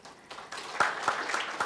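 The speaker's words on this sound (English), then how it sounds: "So I think we need to clap." Scattered audience clapping at a Kenyan NGO's twentieth anniversary celebration, a few distinct soft claps building into a light, uneven patter over a short stretch.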